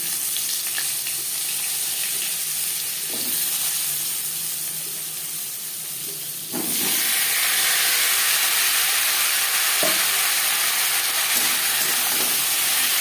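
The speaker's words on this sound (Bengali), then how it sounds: "দশ পনেরো সেকেন্ড পাঁচফোড়ন ভেজে নেওয়ার পর দিয়ে দেবো আলু" Panch phoron five-spice seeds fry in hot oil for a hilsa fish curry, a loud steady sizzle that jumps to a stronger, fuller hiss partway through, close and with no talking.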